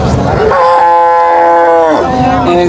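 A Friesian cross dairy cow at a cattle market lets out one loud, close, drawn-out moo lasting over a second, with crowd noise beneath and a brief second call at the end.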